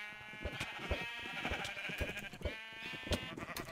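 Sheep bleat repeatedly in a video game, a rapid overlapping chorus of short nasal bleats with clicking and thumping game sounds underneath, steady and busy throughout.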